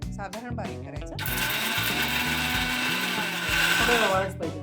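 Ingredients for fasting appe spin in a kitchen mixer grinder, a steady, loud whirring that starts after a moment of talk and keeps running to the end.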